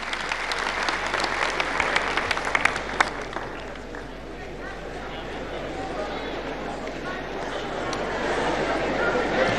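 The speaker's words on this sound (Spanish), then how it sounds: "Lo recibimos con este fuerte aplauso, por favor" Strong applause from a crowd in Cochabamba welcoming President Evo Morales at a handover of irrigation and water programme contracts: dense clapping that peaks early, dips midway, then swells again, with faint crowd murmur beneath.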